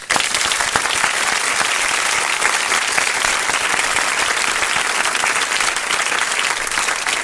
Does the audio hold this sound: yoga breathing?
no